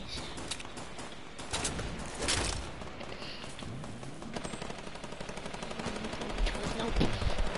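Desert Eagle pistol shots in Fortnite, bursts of gunfire scattered through busy, overlapping game sounds with steady background noise throughout.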